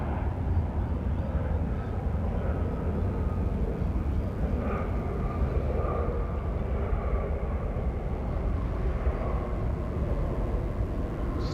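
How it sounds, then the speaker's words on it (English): A Qantas airliner inbound from Bangkok roars steadily on approach to Sydney Airport on a still morning, a broad sustained engine rumble at moderate distance, with someone talking over it. "that's Qantas 24 coming in from Bangkok"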